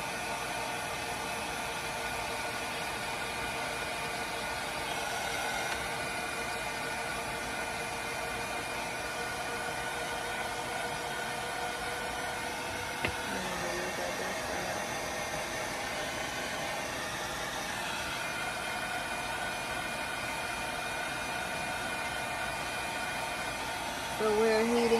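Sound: hair dryer heating and drying a handmade coaster

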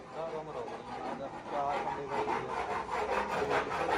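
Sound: metal file rasping

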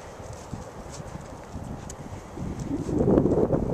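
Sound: horse hooves at the canter

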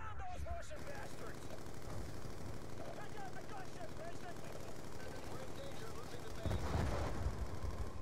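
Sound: gunfire in the video game Call of Duty Black Ops 2

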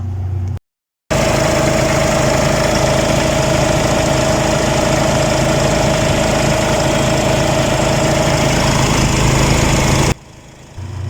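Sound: diesel engine running after turbo installation

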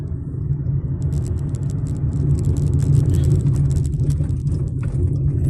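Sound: car traffic on road from Guadalupe to Cainta

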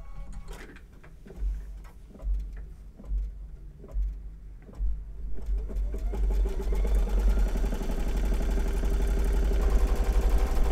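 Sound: sewing machine stitching a placement line

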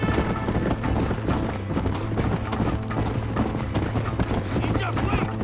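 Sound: horse riding in the video game Red Dead Redemption

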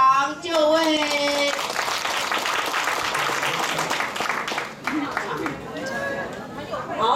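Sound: audience applause welcoming the chairman

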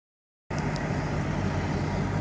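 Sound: 18-wheeler truck engine running

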